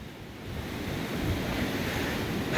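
Waves wash and surge steadily beneath a beach house on the eroding west end of Dauphin Island, Alabama, a loud continuous roar of surf with wind noise and no voices.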